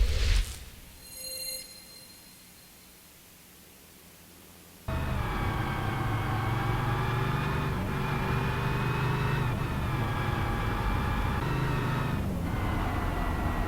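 A race car with a damaged engine, heard from onboard the 65 car at South Boston Speedway during a SARA Throwback 200 race. After a few quiet seconds, a loud, steady, close engine drone kicks in and holds with only slight changes in pitch.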